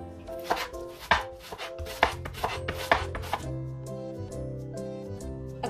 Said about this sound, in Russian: Для начала порежем лук кольцами.